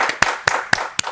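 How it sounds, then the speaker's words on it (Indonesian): Clapping for the guest on an Indonesian talk show: four or five sharp, evenly spaced claps in a quick, regular rhythm, loud and close, with brief gaps between them. "Tepuk tangan buat Alia."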